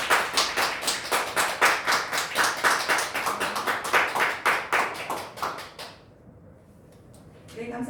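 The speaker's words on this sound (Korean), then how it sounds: "네, 큰 박수 부탁드립니다." An audience applauds at a mission support thank-you ceremony, a run of loud, regular claps up close that fades out after about six seconds.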